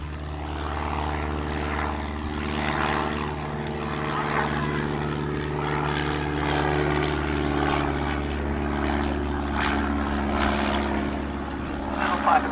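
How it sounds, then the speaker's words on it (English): Bristol M1C vintage monoplane flying at an evening air display, its propeller engine droning steadily and fairly loud throughout with a constant tone. "It's Roger Bailey flying the M1C."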